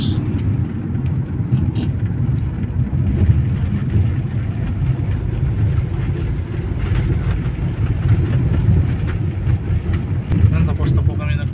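Inside a Hyundai Santa Fe on a road test after transmission repair, a steady low engine and road rumble drones throughout, fairly loud, with faint rattles and the engine sound filling the cabin.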